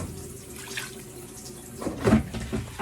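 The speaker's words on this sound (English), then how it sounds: "So we can add our water now, just a bit of water." Water poured from a tap or jug into a cooking pot of Nigerian gizzard, a soft trickle building to a louder splashing gush near the end, close up with no talking.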